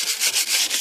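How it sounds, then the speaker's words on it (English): Sandpaper rubs over the painted body of a 1988 Cadillac DeVille in quick back-and-forth strokes, a close rhythmic scratchy hiss with about four passes. "Gotta keep sanding on it."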